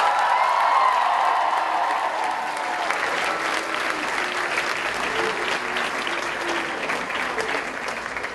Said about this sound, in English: Let's give a big UNI round of applause to our president